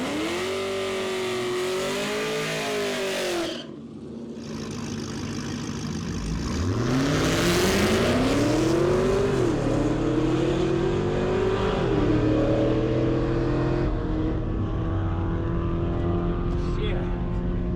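A drag racing car roars past on a pass at the track, engine pitch climbing through gear changes after a brief dip, loud and close, then fading as it pulls away.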